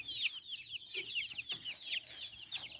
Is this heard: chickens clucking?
yes